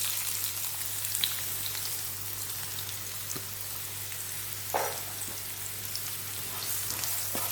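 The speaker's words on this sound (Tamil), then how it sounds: "இந்த எண்ணெயிலே வெங்காயத்தை நல்லா வதக்கணும்." Finely chopped onion fries in oil in a pan for an ivy gourd stir fry, a soft, steady sizzle with scattered light pops and occasional stirring scrapes, heard close with no voices.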